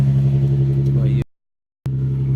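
A cold start of an Infiniti G35 coupe's VQ engine with a custom exhaust: it idles with a deep, steady rumble, cuts out abruptly for about half a second, then resumes at the same low growl.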